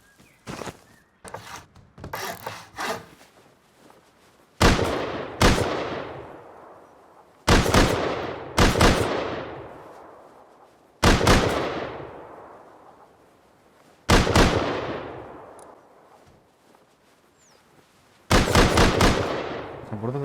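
An auto turret in Rust fires in short, loud bursts of rapid gunfire. Each volley rings out and decays, with about seven bursts spaced a few seconds apart.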